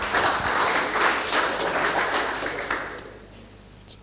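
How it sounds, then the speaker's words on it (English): At a fintech pitch night, an audience gives a quick round of applause for a presenter. Loud, dense clapping fades away over a few seconds, ending with a couple of isolated claps. "quick round of applause for Jonathan from Yimba"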